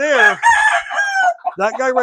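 A rooster gives a loud, close crow, drawn out with a break in the middle, in a setting where black hens are kept, and it rises again at the end.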